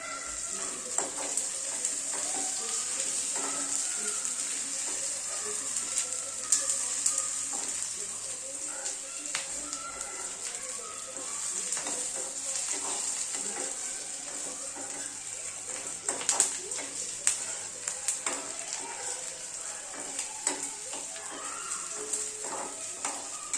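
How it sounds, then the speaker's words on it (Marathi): Sliced onions fry and brown in a pan for misal, giving a continuous bright sizzle with scattered crackles and occasional stirring scrapes, moderately close and without talk. "आपला कांदा सुद्धा छान ब्राऊन होतोय"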